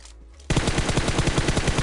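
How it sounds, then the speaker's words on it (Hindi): Rapid automatic gunfire from PUBG Mobile, with a quiet lull before a loud, sustained burst of fast repeating shots begins about halfway through and continues to the end. "और भाई सामने फायरिंग चल रही है"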